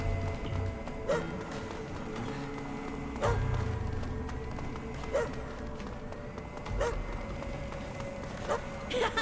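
A dog runs in the video game Astral Chain, its footfalls landing in a regular rhythm of soft thumps roughly every two seconds over a low background bed, with a few bark-like yips.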